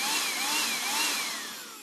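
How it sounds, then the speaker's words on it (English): A handheld dustbuster vacuum runs close up with a loud, steady whining drone whose pitch wavers slightly, alone without talk. "my uncle gave me a dustbuster"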